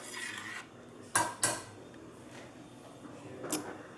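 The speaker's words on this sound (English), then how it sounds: "Now to give it a good stir, mix up all these nice spices." Spices being stirred into gumbo in a cooking pot, soft scraping with two sharp metallic clinks of a utensil against the pot and a later tap, faint and close with no talk.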